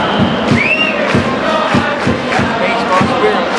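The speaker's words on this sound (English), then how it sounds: "That's definitely over there, the Dragon's cheer section." The Chunichi Dragons cheer section roars at a baseball game inside the Tokyo Dome, a dense crowd chanting in steady rhythmic beats with drums and whistles, loud and close, with scattered voices nearby.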